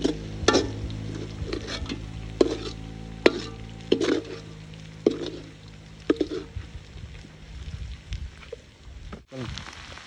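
Potatoes tempered in ghee are stirred in a pan, giving scattered scraping knocks of the spoon over a low, steady frying sizzle, close and with no talking.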